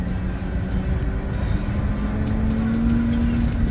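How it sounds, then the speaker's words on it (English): Steady engine roar with a rising whine near and loud, a twin-turbo BMW E30 making about 1200 wheel horsepower spooling up at a street race, continuous with no talk. "Listen to this turbo."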